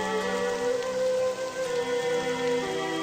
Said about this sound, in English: With this heavy rain, I don't blame them for staying outside.